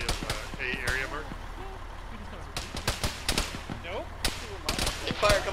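Incoming gunfire in the Arma military game, with scattered sharp shots and short bursts cracking at irregular intervals, some louder and closer, while several voices talk over radio in between.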